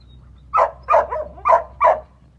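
A Hmong bobtail dog gives four short, close barks in a steady rhythm, each trailing into a whiny, whimpering tone, with no other sounds around it.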